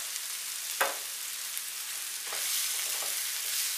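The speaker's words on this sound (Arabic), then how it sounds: "ودابا غادي نزيد هاد الباكيه ديال الفيغميسين بعد ما قطعتها، غادي حتى هي نشحرها شويه" Cut vermicelli sautéing in a pan, giving a steady, fairly soft sizzle and frying hiss with a few faint stirring scrapes and clicks, no voices.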